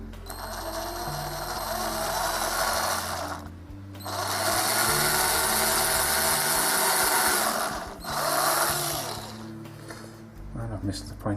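Power drill boring down into a scrap piece of wood in loud whining bursts, two long runs separated by short pauses, with spinning-down tails between them.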